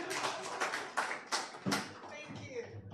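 A small conference audience at an East Africa AI forum gives brief, scattered applause, just a handful of quiet claps that soon fade.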